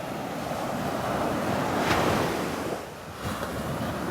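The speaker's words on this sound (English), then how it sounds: "Nice little waves rolling in here." Small ocean waves rolling onto a Gulf beach and breaking on a sandbar offshore, a steady washing surf with gusts of wind across the microphone, no voices.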